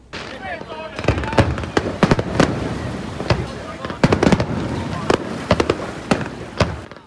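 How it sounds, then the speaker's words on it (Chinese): Fireworks burst over the sea at night during the Keelung Ghost Festival water lantern release, a loud rapid series of sharp cracks and booms, with crowd voices and narration heard beneath. "绚丽烟火划破一晚星空"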